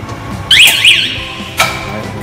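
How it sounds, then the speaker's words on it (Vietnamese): An anti-theft alarm on an automatic German-technology roller shutter door gives a loud warbling electronic tone, then a second short burst, close and clear. "công nghệ đức nó gồm hệ thống tự dừng báo động chống trộm"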